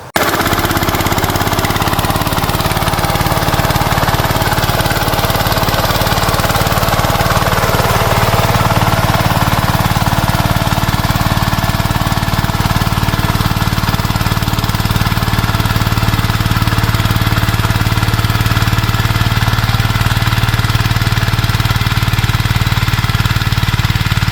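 A loud tractor engine runs continuously with a heavy, rumbling drone, steady throughout and close by, with no voices, in a sugarcane field.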